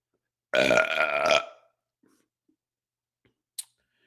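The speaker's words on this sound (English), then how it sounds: "You see that burp? Do you see that burp?" One loud, close burp lasting about a second, followed by near silence and a faint click.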